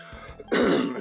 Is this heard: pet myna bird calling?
no